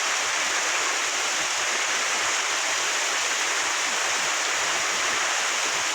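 Heavy rain pours steadily during a storm at a village house, its dense, even hiss close and loud for the whole stretch, with no voices.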